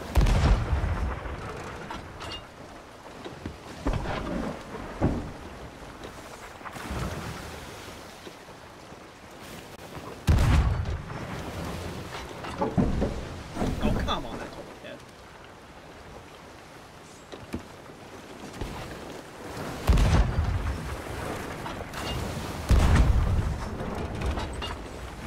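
Cannons boom irregularly during a naval battle between ships in the pirate game Sea of Thieves, with heavy thuds every few seconds over a steady wash of ocean waves and wind.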